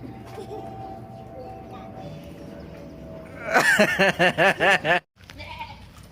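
Goats at a goat farm bleat in a quick run of about five loud, wavering calls near the listener, following a stretch of quieter farmyard background with a faint voice.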